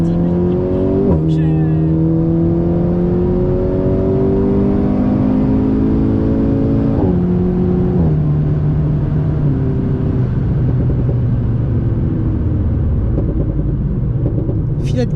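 An Alpine sports car accelerates on the Bugatti circuit at Le Mans, its engine climbing through several gearshifts with clear pitch steps, loud and close, a voice talking in the cabin.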